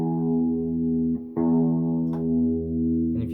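Clean electric guitar played through a Line 6 amp with reverb: a sustained chord rings steadily, cuts off briefly, then is struck again and rings on with a soft, spacious tail.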